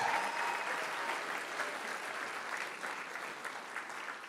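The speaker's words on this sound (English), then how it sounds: "Big round of applause. Celebrate this." Steady applause from a crowd at a charity auction gala in Los Angeles, dense clapping that holds at an even level throughout and tapers slightly toward the end.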